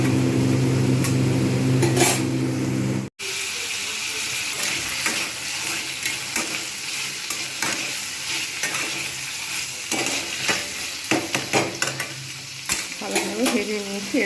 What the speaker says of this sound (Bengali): ভালোভাবে ভেজে নিয়েছি।